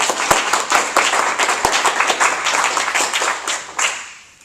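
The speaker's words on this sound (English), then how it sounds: "I just want to give Margaret a round of applause." A classroom group applauds a visiting guest, a few seconds of steady, fairly close clapping with a handful of sharper individual claps standing out, tapering off at the end.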